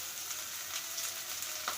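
Sliced onions fry with salt in a pan for a roadside-style tomato chutney, giving a steady, bright sizzle and crackle with soft stirring scrapes, close and alone without talk.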